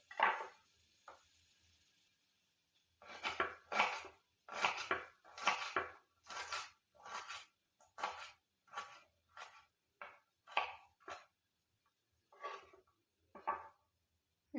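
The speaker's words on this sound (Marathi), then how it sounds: "त्याच्यानंतर मी इथं फोडणीसाठी कांदा घेते. तर हे आपल्याला बारीक करून घ्यायचं आहे." Onion chopped finely for tempering, a series of close, crisp knife knocks on a board in uneven runs with short pauses, fairly quiet, no talk.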